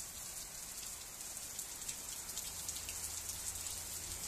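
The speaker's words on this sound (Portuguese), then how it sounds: "Tá chovendo demais, né?" Heavy rain pours steadily in a continuous hiss with dense patter of drops on surfaces, fairly faint and even throughout, with no voices.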